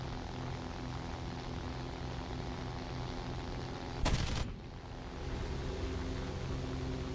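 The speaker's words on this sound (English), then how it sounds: "Guns sound pretty damn good." Fighter plane guns fire in a short burst in the War Thunder game, a loud half-second rattle cutting over the steady drone of a propeller engine, with no talking.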